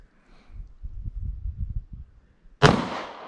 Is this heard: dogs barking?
no